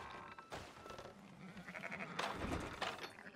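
Sheep in the video game Red Dead Redemption 2 give faint, short bleats, a couple of brief calls among quiet creaks and background sounds, with no talking.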